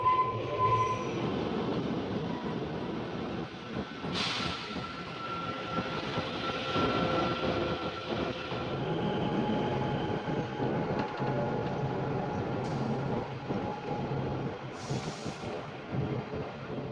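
Onboard the Kalka-Shimla toy train as it runs: a steady rumble of wheels and carriages with rattling clacks throughout, and a few brief high wheel squeals along the way, with no talking.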